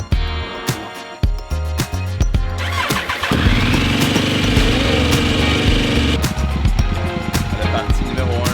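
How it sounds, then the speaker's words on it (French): A motorcycle engine starting up close by with a few sputtering pops, then revving and running loudly as the ride begins, a steady engine drone that roughens toward the end. "Puis pour célébrer le tout, on va partir à moto."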